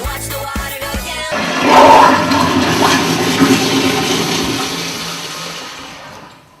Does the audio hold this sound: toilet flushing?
yes